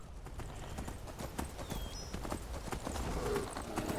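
Steady clip-clop of horse hooves trotting at a brisk, even rhythm, fairly close, with a faint whinny-like tone in the background.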